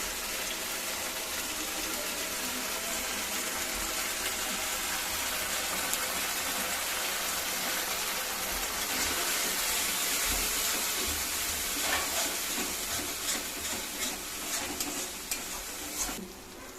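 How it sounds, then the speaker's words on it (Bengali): Chilli-powder spice paste fries in hot oil in a pan for fish curry with raw banana and potato, a steady loud sizzle with stirring scrapes and rising crackle toward the end, with no voices. "মশলাটা থেকে তেল ছেড়ে আসছে আর মশলাটা খুব সুন্দর ভাজা হয়েছে"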